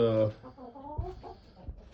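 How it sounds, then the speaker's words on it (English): A young hen clucks close by in a backyard flock, a few short throaty clucks and murmurs in quick succession, with a voice nearby. "that's one of the young hens there"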